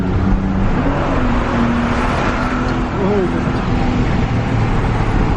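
A BMW E36 323ti Compact's inline-six engine runs with a steady, dense drone and faint rising and falling tonal traces, carrying on without pause amid broad road noise.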